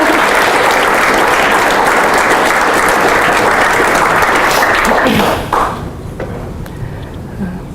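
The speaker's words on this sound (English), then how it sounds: "Can we all just give her a massive round of applause?" A meetup audience giving a round of applause after a tech talk, dense steady clapping that fades out over a couple of seconds into quiet room noise.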